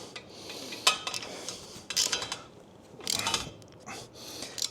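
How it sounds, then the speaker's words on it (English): Quarter-inch screws on a Sawicki Speed exhaust bracket for a 1999 Harley Dyna are tightened with a ratcheting tool, giving quiet bursts of clicking and metallic scraping separated by short pauses. "Now I'm going to start tightening this bracket, starting with these 6mm screws"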